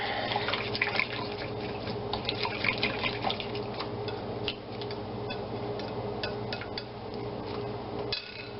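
Water runs steadily from a kitchen tap as something is rinsed under it while pork chops are being cooked, a continuous splashing hiss with faint drips and clinks, close by and with no voices.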